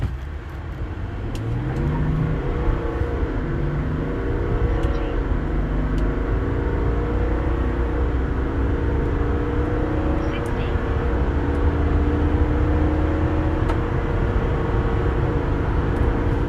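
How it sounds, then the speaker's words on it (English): A 2026 Chevy Tahoe with a 3.0L Duramax inline-six diesel and 10-speed transmission accelerates, its steady engine drone rising in pitch through the gears, loud and continuous with wind and road noise. "This 3 liter Duramax diesel is inline 6, has 305 horsepower, 495 pound-feet of torque."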